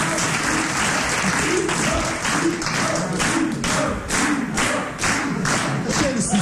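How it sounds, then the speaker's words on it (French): Applause from a studio audience on a French radio comedy panel show, a steady crackle of clapping with a few louder thumps, filling the whole stretch without talk. "Rire poli, applaudissements de circonstance"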